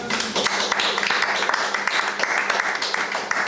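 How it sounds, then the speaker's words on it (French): A church congregation applauding during a French-language worship service, steady thick clapping throughout with some cheering voices mixed in, fairly close and full. "Acclamons pour le Seigneur."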